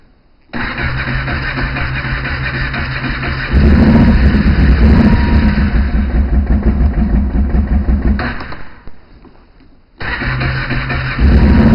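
An engine, started by pulling in the clutch, setting the choke and pressing a green start button, catches abruptly and runs loud and close, revving higher, dipping briefly, then settling back into a steady running roar.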